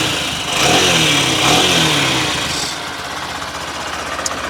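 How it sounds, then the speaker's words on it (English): A 2020 Honda CBF125 motorcycle engine revved twice in quick succession, loud and close, before it drops back toward a rough idle. "I'll just rev it up quickly."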